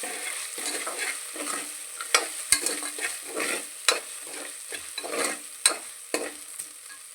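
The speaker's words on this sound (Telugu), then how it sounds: "అల్లం చిన్నెల్లిపాయ పేస్ట్ ఒక్క స్పూన్ వేసుకుందాం కొద్దిగా వేగంగానే పచ్చిమిరపకాయలు వేసేసుకున్నాం" Green chillies and a spoonful of ginger-shallot paste fry in a pan over already-browned onion for sweet corn pulao, with a steady sizzle broken by repeated sharp scraping strokes of a stirring spoon, close and alone.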